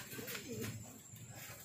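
An injured bird with a drooping wing gives a soft, low coo, close by and brief, over a steady background hiss.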